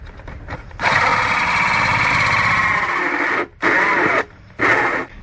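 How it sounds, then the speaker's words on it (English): A drill drives a 4-inch hole saw with a loud, steady grinding whir close by. It stops briefly twice and restarts in short bursts toward the end. "So using your 4-inch hole saw,"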